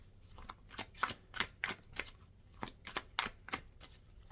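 Tarot cards shuffled by hand in rapid riffling bursts, about a dozen crisp flicks in an irregular rhythm, close and clear with no voices over them.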